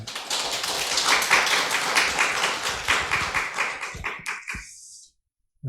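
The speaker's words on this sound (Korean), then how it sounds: "우리 하나님께 영광의 박수 올려드리겠습니다." A church congregation claps in praise to God during a Sunday service, dense rhythmic clapping that builds, then breaks up into a few scattered claps before stopping abruptly into silence.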